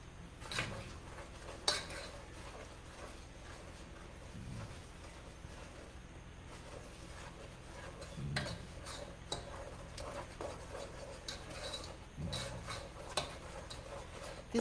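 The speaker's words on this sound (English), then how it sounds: "stir it for a little bit and let it just do its thing" A spoon stirring a boiling candy mixture in a pot, with scattered metallic scrapes and clinks of utensil against the pot over a quiet, faintly bubbling background.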